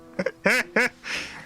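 A human voice imitates Donald Duck, producing a few quick nasal quacking bursts up close, followed by a breathy, raspy trailing sound.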